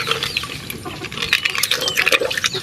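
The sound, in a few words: water being poured for soaking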